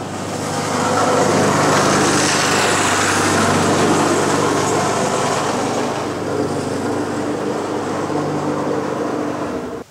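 A push lawn mower engine runs steadily and loudly nearby, a continuous droning hum with a slight rise at the start and a sudden cutoff at the end.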